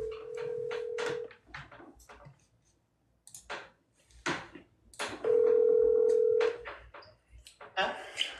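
A telephone dial tone sounds during a phone call. A steady, clear hum is heard twice, once near the start and again later, with clicks and people talking around it.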